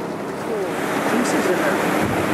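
Water rushing steadily through a gold cleanup sluice and washing blonde sand out of the riffles outdoors, a loud constant wash with wind buffeting and faint voices underneath.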